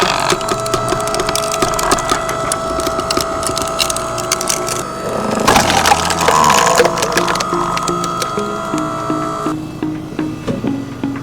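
Loud, grinding mechanical splitting of a 420 mm long, 250 mm thick firewood log by an 8-ton log splitter, with creaks and cracking splinters over a steady generator drone, building to a heavy burst midway.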